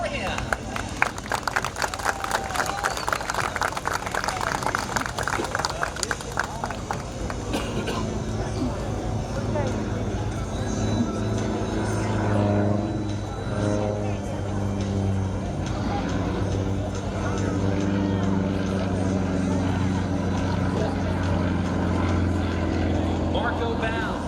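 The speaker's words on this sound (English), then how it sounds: "flying this radial engine-powered, tractor-sounding monster, the Sukhoi SU-31" Sukhoi SU-31 aerobatic aircraft with a radial engine flying at an air show, a steady loud droning engine rumble that rises and shifts in pitch across the pass, with an announcer talking over it.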